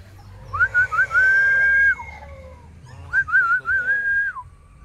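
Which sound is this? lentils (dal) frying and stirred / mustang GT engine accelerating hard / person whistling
person whistling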